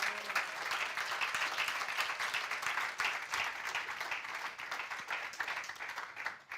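A church congregation applauds at a Father's Day service, sustained dense clapping from many hands filling the hall at steady loudness throughout, with no speech over it.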